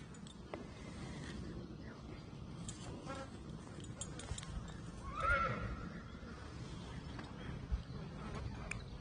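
A horse neighs once mid-clip, a rising whinny over outdoor background noise, with faint hoof and rustling sounds around it.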